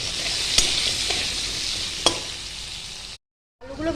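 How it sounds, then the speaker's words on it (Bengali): Potatoes frying in hot oil in a kadai with salt and turmeric, a steady close sizzle with a few sharp stirring clicks, then a brief silence before the frying resumes. "নুন হলুদ দিয়ে একটু ভেজে নেব"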